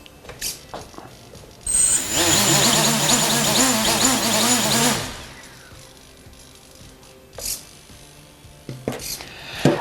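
A multirotor FPV drone with its I gain set too high: motors surge into a loud, wavering buzz for a few seconds, pitch oscillating rapidly, then cut back to quieter handling noise.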